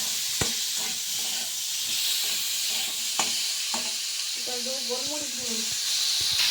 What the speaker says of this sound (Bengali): এরপর ভালোগুলো সব কিছু উপকরণগুলো একসঙ্গে ভালো করে ফ্রাই করছে মা।